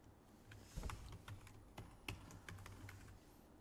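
A password is typed on a computer keyboard: a quick, irregular run of sharp, close key clicks with a few louder taps, heard alone with no talk.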